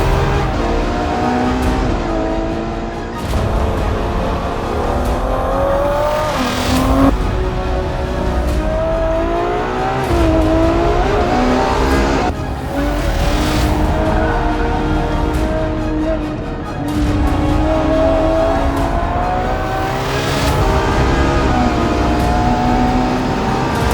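Ferrari 812 Superfast with its 789bhp engine accelerating hard, a loud sustained roar rising in pitch through repeated gear changes, close and continuous with no talk.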